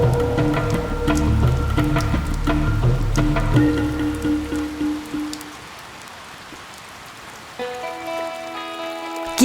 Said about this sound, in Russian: Но дождь-то после обряда сразу приутих.